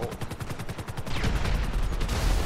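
Rapid automatic gunfire in GTA V Online, a fast, even burst of shots rattling through the first second, then heavier booming blasts and rumble building toward the end, loud and close.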